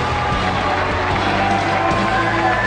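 An Israeli crowd cheers and claps for tennis player Noam Gershony at the 2012 Paralympics, a continuous roar of many voices and hands from a distant stand.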